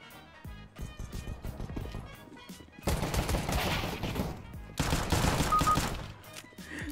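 Rapid bursts of gunfire crackle in two long volleys, loud and close, after a quieter stretch of scattered shots and movement.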